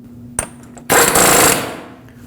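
A power tool, likely an impact wrench, snugs up the front axle nut on a 2006-2015 Lexus IS250 hub, with a short click then a loud sustained rattling burst of about half a second that tapers off.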